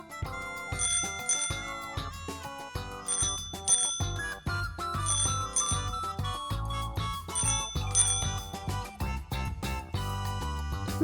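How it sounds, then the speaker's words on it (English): Bicycle bell ringing in repeated bright double dings over an upbeat children's music backing, clear and close across the whole stretch. "This is a bicycle."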